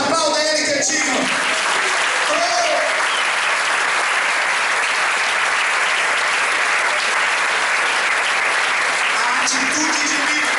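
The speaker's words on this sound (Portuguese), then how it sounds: "Aplauda ele que é digno." A church congregation at a praise and worship seminar breaks into sustained applause, a thick, continuous roar of clapping with faint voices and cheers mixed in, holding at an even loudness from start to finish.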